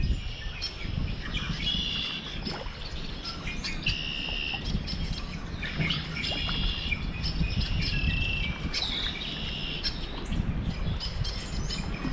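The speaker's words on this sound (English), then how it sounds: "Love the sound of that red-winged blackbird. That is a beautiful sound." Red-winged blackbird song rings out in short repeated phrases over a steady bed of chirping insects at Lake Martin, Louisiana, a busy outdoor chorus with no voices.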